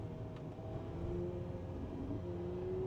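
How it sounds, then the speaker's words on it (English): A McLaren 750S Spider V8 engine hums steadily from inside the cabin with the back window down, a low, fairly faint drone that rises slightly in pitch toward the end, no talk. "we can slide the back window down so you can hear that V8 sing"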